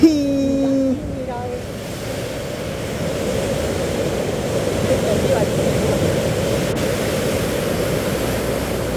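A swollen, flooded river rushing past near houses, a steady broadband roar of water that continues throughout, with a brief voice at the very start.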